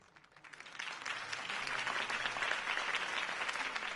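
A crowd breaks into applause after Harvey Dent's campaign speech in the Batman Telltale game, clapping building quickly from a few claps into a sustained, dense ovation at moderate distance.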